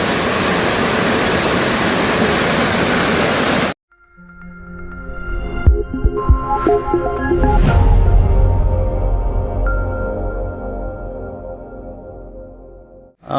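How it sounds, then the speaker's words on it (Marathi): A waterfall at Devgad in the rainy season roars as a steady, loud broadband rush, cutting off abruptly, after which a quieter, tonal passage follows. "हा आहे वॉटरफॉल"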